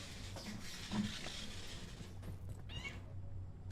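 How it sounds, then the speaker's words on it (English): A house cat meows faintly in a quiet room, a couple of soft, drawn-out cries at a distance with low background hum. "Cat, please."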